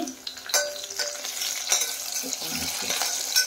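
Curry leaves dropped into hot oil for a poori side curry, a crackling, popping sizzle with bursts and spatters over a steady frying hiss.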